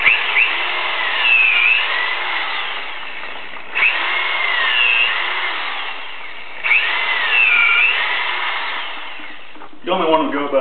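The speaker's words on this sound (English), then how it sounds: "you drill a hole and fill it up with sawdust" A power drill bores holes into a hardwood log for shiitake spawn plugs, giving loud whining bursts of about three seconds each, repeated three times with short pauses between, close by, with brief talk at the end.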